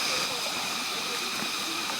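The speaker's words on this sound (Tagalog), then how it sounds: "Ito yung ikalimang ilog." River water rushes steadily at a fifth river crossing on a Mt Irid hike, a loud continuous hiss and gurgle, close by.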